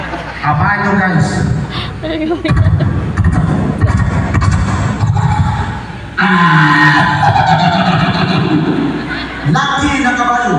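A beatboxer performing onstage imitates a horse neigh with his voice, producing whinnying, wavering vocal calls over a steady rhythmic backing, with talk and crowd noise around.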